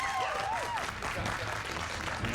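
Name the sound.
round of applause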